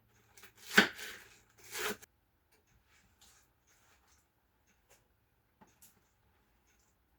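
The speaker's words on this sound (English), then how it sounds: "I'm going to chop it and then clean it" A knife chops through a head of lettuce on a cutting board in a home kitchen, two quick crunchy cuts close to the mic, then near silence with a few faint taps.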